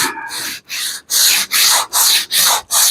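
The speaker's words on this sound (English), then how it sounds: "I got my trusty longboard with a couple of 80 grit discs on it because I ran out of 80." A longboard sander fitted with 80-grit discs works a panel in steady back-and-forth strokes, about seven rhythmic rasping passes with short breaks between them, loud and close.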